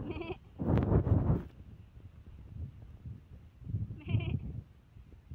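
A goat bleats loudly up close in an outdoor rural spot near a river spring, two bursts a few seconds apart over faint background noise, with no talking.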